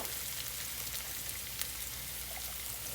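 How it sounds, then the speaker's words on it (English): Onions sizzle in a very hot skillet for brown gravy, giving a steady, dense crackling hiss with tiny pops, close and continuous without speech. "That skillet's real hot. It's already starting to get the onions turned."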